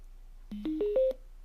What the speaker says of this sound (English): You hear the little Bluetooth signal going on and it lights up.